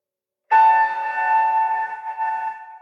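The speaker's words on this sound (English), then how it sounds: "until we hear the sound of the bell once more, indicating the end of our practice" A meditation bell is struck once, its clear, steady ringing tone sustaining loudly and shimmering slightly as it slowly decays over several seconds in a quiet room.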